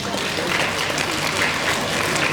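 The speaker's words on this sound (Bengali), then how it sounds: "মামুন সারোয়ার ভাইয়াকে আমাদের পক্ষ থেকে একটা করতালি দিতে চাই আমরা।" Children at a children's literature festival give a steady round of applause for editor Mamun Sarwar, a dense, continuous patter of many small hands filling the hall at even loudness.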